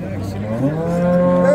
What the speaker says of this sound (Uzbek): Juda ajoyib sigir ekan mana shu.